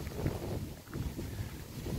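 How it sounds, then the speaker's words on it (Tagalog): Steady, blustery wind in Sweden buffets the microphone with a constant low rumble and gusts throughout, no voices heard. "malakas ang hangin ngayon"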